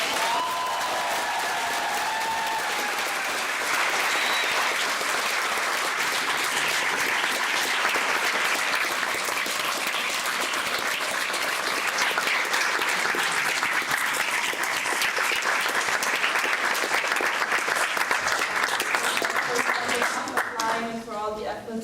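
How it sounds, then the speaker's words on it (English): Long, steady round of applause from the audience at a national assembly in Düsseldorf, dense clapping that holds for about twenty seconds and swells slightly before tapering off, with voices briefly heard at the beginning. "can we have a big applause for Nele?"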